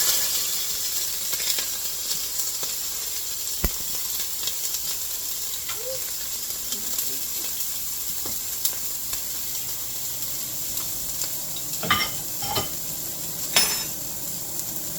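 Red peppers sizzle steadily in a hot pot, a soft continuous hiss beneath occasional clinks and stirring knocks, with a couple of sharper bursts of sizzle late on.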